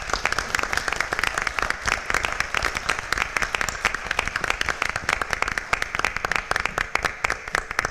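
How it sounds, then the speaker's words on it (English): Sustained applause for retirees at a board of education meeting, many hands clapping densely and evenly at a moderate level for the full stretch without a break. "Please join me in a round of applause again for our retirees."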